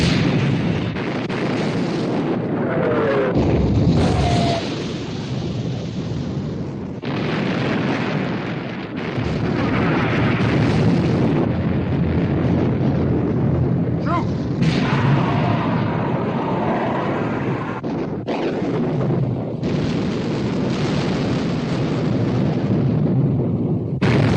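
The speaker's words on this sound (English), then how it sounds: "Prince of Wales and Bismarck exchanging fire." Heavy naval gunfire from the battleships Prince of Wales and Bismarck in a 1960 war film, with loud continuous booming blasts and rumbling roars that fill the scene, punctuated by sharper explosive bursts and no speech.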